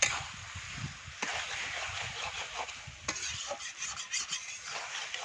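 Fried soybean and potato are stirred into a spice mix in a hot pan, giving a steady close sizzle with scraping stirs throughout and no talk.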